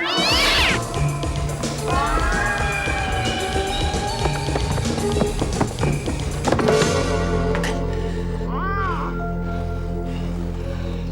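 A cat in the 1990 horror film Tales From The Darkside The Movie meows and yowls loudly and repeatedly over a dense, busy film soundtrack, with no dialogue heard.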